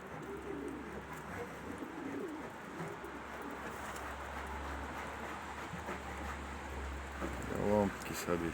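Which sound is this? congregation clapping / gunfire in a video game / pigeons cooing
pigeons cooing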